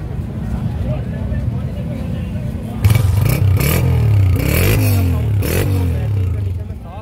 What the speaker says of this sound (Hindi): इसका भी नवाज भाई स्टार्ट करके सुना दिएगा साउंड